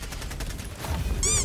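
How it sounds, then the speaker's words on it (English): Gunfire from a weapon in the video game Helldivers 2, a dense burst of rapid shots close and moderately loud, with a whistling high-pitched effect rising near the end. "I'm shooting my gun sideways."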